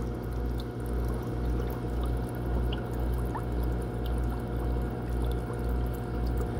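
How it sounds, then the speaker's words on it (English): A Medical King foot bath massager's bubble maker churning water, a steady gentle bubbling and sloshing with a soft rhythmic pulse and low motor hum, continuous and close. "It's not like a powerful bubble jet, but they're, you can hear them, and they're moving the water around."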